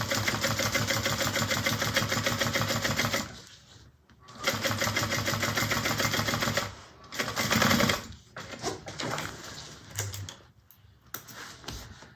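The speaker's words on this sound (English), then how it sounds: "so we're top stitching 1/8 of an inch" A sewing machine runs in long steady bursts, top stitching an eighth of an inch from the edge of a fabric craft bag, stopping and restarting several times with brief pauses between runs.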